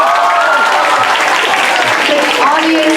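Steady, continuous applause from an audience at a senior student council debate, filling the whole stretch with dense clapping and a few faint voices mixed in.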